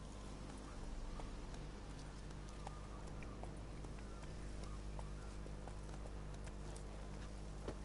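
Horse galloping in The Witcher 3, with rapid rhythmic hoofbeats running steadily over a constant game ambience, close and fairly loud.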